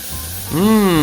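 Tomato goes into a hot pan for soup, setting off a loud, sudden hiss of sizzling that swells over a second of steady background noise, close up and alone.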